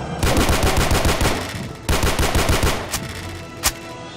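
Automatic gunfire from a weapon called the Lucha in a video game rings out in two rapid bursts of closely spaced loud shots, followed by a couple of single sharp reports, with no voices.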